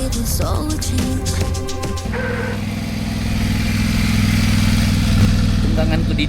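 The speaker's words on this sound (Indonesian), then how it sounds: "Tungganganku di New Zealand, Yamaha Tenere 700." Yamaha Tenere 700 motorcycle ridden in New Zealand, a steady loud engine drone that takes over after a brief burst of music and holds on to the end.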